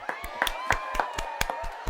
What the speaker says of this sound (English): Round of applause, gentlemen.